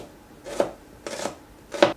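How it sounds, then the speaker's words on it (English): Onions chopped on a cutting board, three distinct knife strokes about half a second apart, close and crisp, with no talking. "Just chop it to your desire, really. So, chopping."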